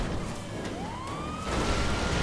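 Police car siren in the video game Survive The Hunt, a rising wail sweeping upward then holding steady, moderately loud over a constant engine and traffic rumble, with no talk.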